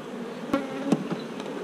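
Honeybees hum steadily at an opened hive colony, a close, continuous buzz with a couple of louder bees passing near and a few faint knocks.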